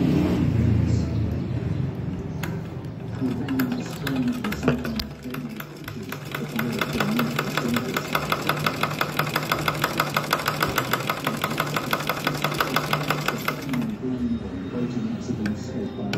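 A sewing machine stitches a blouse seam diagonally, running as a steady rapid mechanical hum with a fast regular rattle of needle strokes for most of the stretch, briefly easing off midway, with a voice talking at times over it.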